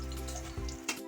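Potatoes and cauliflower frying together in a pan for a home-style cauliflower and potato curry, a steady low sizzle with a brief louder scrape or stir near the end.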